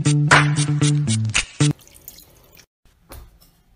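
Tap water running and splashing in a sink during rinsing, loud, broken bursts over the first two seconds, then a quieter trickle and a brief final splash.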